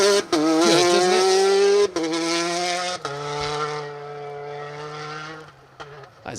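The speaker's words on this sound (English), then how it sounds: "That is a fantastic sounding rally car." Citroen DS3 R5 rally car screaming through a rally stage at close range, a loud sustained engine note with rising and falling pitch across gear changes and a brief lift partway through.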